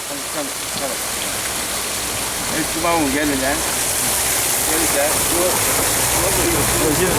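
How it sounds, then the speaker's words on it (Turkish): A waterfall near a tahini mill gives a loud, constant rushing hiss, steady throughout while people talk over it. "Bu ne? Yağmur mu yağmur? Yağmur yağmıyor. O şelale."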